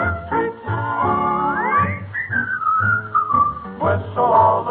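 A person whistles a bouncy melody, with rising and sliding notes over a low rhythmic accompaniment, close and clear, in a 1945 radio show.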